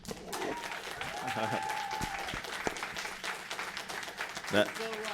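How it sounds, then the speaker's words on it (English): Applause rises from the audience at a city commission meeting, a steady patter of many hands clapping at moderate distance, with voices and speech mixed in throughout. "That does deserve a round of applause"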